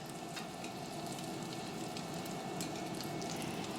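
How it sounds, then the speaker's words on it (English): Chicken cordon bleu roll sizzling in hot bacon fat in a pan, a steady close crackle and hiss with fine popping that holds evenly throughout, no voices. "you're going to take your chicken roll and just put it right down there in the bacon"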